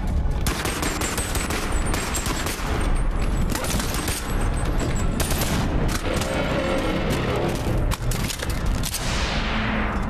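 Rapid, sustained bursts of turret gunfire in the VR shooter BONELAB, loud and continuous through the whole stretch, with dense overlapping shots and booming impacts and no talk over it.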